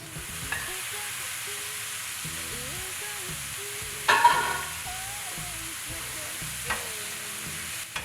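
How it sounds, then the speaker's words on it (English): Raw shrimp frying in a pan for lemongrass shrimp, a steady low sizzle with a few stirring scrapes and a brief louder clatter partway through. "I'm gonna add the shrimp into the pan."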